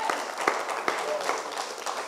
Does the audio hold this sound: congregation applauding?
yes